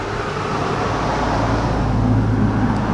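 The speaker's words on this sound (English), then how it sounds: "and here comes a car." A car rolls past a windy backyard in a steady, loud road rumble that swells slightly toward the end, with wind noise mixed in.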